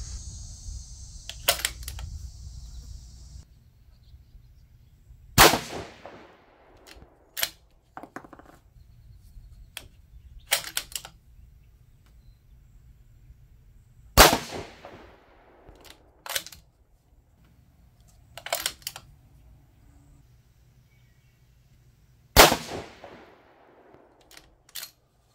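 Rifle shots from a 6mm GT firing 108 ELD-M loads, a three-shot group of sharp, loud cracks spaced several seconds apart over a quiet background.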